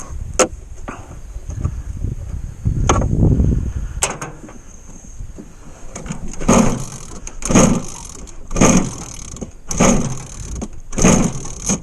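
Repeated pull-cord starting attempts on a Jersey skiff's outboard engine that fails to fire, coming as a steady series of sharp, roughly evenly spaced rasping pulls, loud and close, with no running engine between them.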